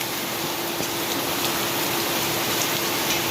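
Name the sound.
heavy rain falling on a street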